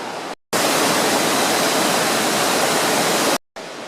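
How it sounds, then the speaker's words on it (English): The waterfall at Jajce, Bosnia, heard from its top, roars as a loud, steady rush of falling water, broken by two short silent gaps. "we're just at the top of the waterfall here"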